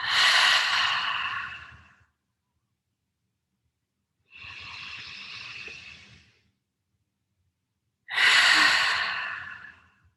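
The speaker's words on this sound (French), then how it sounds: "Profond inspire et profond expire." Three deep, slow breaths during a guided yoga session: a long airy inhale, a softer exhale, then another strong breath, each close and clearly audible with silent pauses between.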